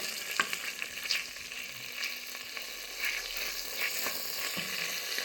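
Onions frying in melted butter in a pan for carrot cream soup, a continuous close sizzle with scattered pops and crackles throughout.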